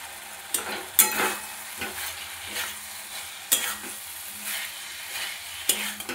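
Cauliflower florets sautéing and being stirred in a pan for an egg, potato and cauliflower curry, with soft frying crackle and intermittent sharp scrapes and clinks of the spatula close by.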